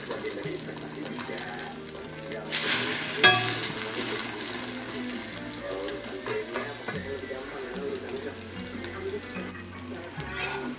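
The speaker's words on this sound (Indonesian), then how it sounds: "Terus kita masukin telurnya. Ya udah, goreng aja sampai matang." Eggs frying in hot cooking oil in a home kitchen, a steady close sizzle with crackles and scraping, briefly louder near the start.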